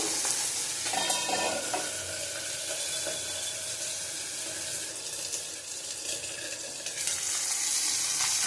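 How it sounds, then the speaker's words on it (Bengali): Pabda fish frying in a covered pan give a continuous loud sizzle with crackling bursts and faint clattering throughout, no voices. "দেখো পাবদা মাছ বসিয়ে দিয়েছি, সাথে ঢাকা দিয়ে দিয়ে আমি করবো।"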